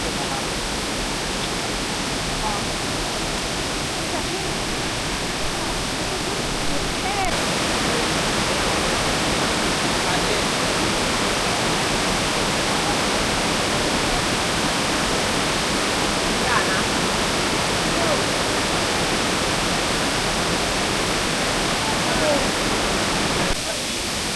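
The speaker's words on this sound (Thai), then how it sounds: "ตอนนี้นะคะเราก็ถึงน้ำตกชั้นเจ็ดแล้วนะคะที่โกอีดกนะคะ" Water pours down the seventh tier of Krok E Dok waterfall in Thailand, a loud, steady roar of rushing water filling the scene without a break.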